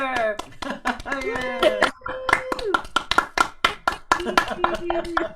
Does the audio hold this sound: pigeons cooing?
no